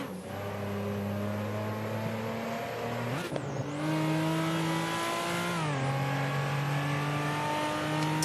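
Toyota Supra MKIV engine in Assetto Corsa revving hard through gears, rising pitch with two sharp shifts, loud and close with no talk.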